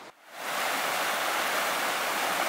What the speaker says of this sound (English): Got a beautiful babbling brook.